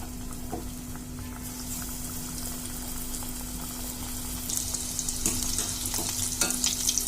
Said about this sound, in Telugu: ఇలా పిండిలో డిప్ చేసుకున్న వాటిని నూనెలో వేయించుకుందాం.